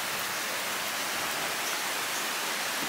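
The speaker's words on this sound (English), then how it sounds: "Oh, it's starting to rain now." Rain beginning to fall in a garden, a steady, even hiss of drops spread across the whole clip with no voices, moderately loud and close.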